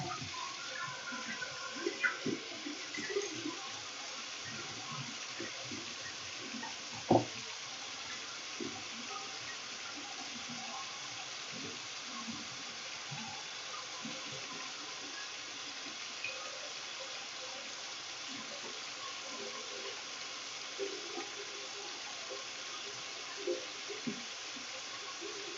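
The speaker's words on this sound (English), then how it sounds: "Then I'm going to wash my hands again for 30 seconds." Tap water runs steadily into a sink as hands are washed, a soft continuous gush with faint splashes and occasional small knocks and clatters, fairly quiet and unaccompanied by talk.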